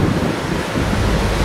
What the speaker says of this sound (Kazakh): су шашып жатыр екен